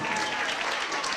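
Dense, steady clapping from a large crowd at an athletic booster club sports banquet, a continuous loud wash of applause with no break across the short stretch.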